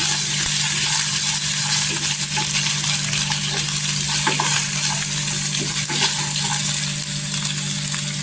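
Potatoes fry until golden in hot oil for varai (barnyard millet) upma, a steady loud sizzle with scattered crackles and occasional stirring clinks throughout.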